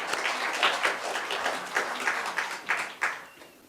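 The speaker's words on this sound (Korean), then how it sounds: "우리 따뜻한 박수로 우리 환영하겠습니다." Warm audience applause welcoming a lecturer at a fasting retreat in a Korean monastery, a steady wash of many hands with distinct sharper claps rising above it, moderately loud and close.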